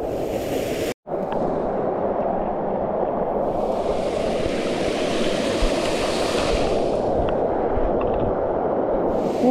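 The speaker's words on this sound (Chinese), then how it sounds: "真係瀑布好靚，超級巨大喎" A huge waterfall on a mountain stream roars in a dense, steady wash of rushing water, loud and unbroken apart from one brief dropout near the start, with no voices.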